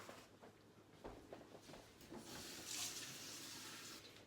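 Water pouring into a cooking pot of lentils in a cottage kitchen, a soft, quiet splashing stream that rises briefly toward the end.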